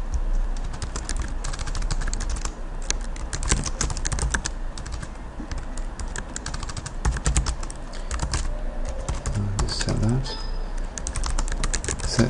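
Rapid clattering keystrokes on a computer keyboard entering commands in a JUNOS simulator, close and continuous bursts with brief pauses, no talk.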